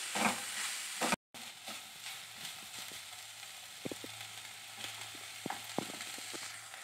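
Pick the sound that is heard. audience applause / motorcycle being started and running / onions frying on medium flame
onions frying on medium flame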